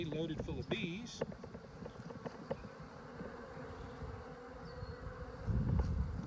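Honeybees droning inside a catch box during a vacuum hive removal, a steady low buzz running under a voice, with louder rumbling toward the end.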